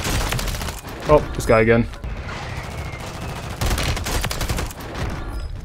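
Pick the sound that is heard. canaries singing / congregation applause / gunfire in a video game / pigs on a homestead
gunfire in a video game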